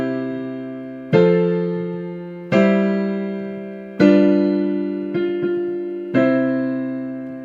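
A harmonic progression moving through a dominant seventh chord to a cadential six-four, heard as five or six sustained chords struck one after another at an even pace, each ringing and decaying, with no talking.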